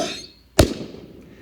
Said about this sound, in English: And I put some pyrotechnics,